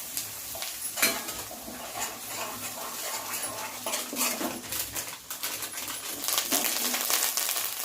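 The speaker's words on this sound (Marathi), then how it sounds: "मसाले चांगले परतले." Homemade spice powders of onion-garlic masala, chili and coriander fry in a pan while being stirred, giving a close, steady sizzle broken by scraping and clinking of the spoon against the pan.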